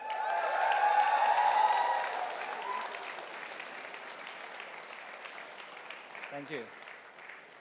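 Audience applause at a smartphone software launch event for the ColorOS team, a full round of clapping under a speaker's voice that tapers into a long, thinning patter, with a brief spoken thanks.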